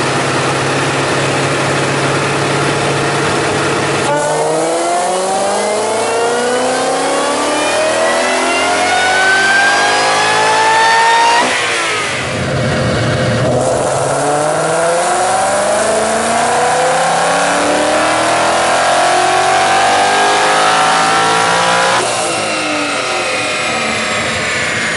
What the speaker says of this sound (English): tuning on a VMP Roush supercharger on a 2015 Mustang